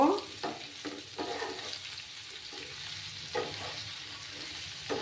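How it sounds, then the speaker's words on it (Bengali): Cauliflower is stirred in a pan after salt goes in. A soft, low sizzle sits under intermittent spoon scrapes and clinks recurring every second or so. "পরিমাণ মতো নুনটা দিয়ে দিলাম, দিয়ে আবার নাড়াচাড়া করে নেব।"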